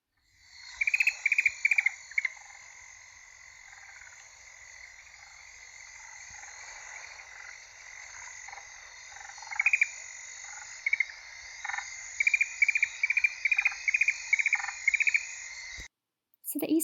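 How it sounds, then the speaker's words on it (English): An eastern grass owl gives a quiet cricket-like trill, with rapid pulsed bursts repeating in loose clusters over a constant high insect and frog chorus at night, with no talk over it. "they'll just make a very quiet cricket-like trill. I'll play that cricket-like trill for you now"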